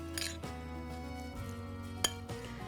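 Tuna and finely chopped gherkin being mixed in a bowl, quiet scraping of a utensil with a few light clinks against the bowl, one sharper tap standing out.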